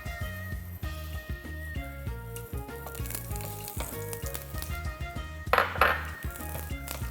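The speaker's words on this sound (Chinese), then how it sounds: "锅热了过后，我们加一些油下去，将刚才剩下的姜倒入进去" Ginger sizzles in hot oil in a wok, with a steady close frying hiss. A utensil clinks and scrapes against the metal pan in an irregular rhythm, and a louder burst of sizzle comes near the end.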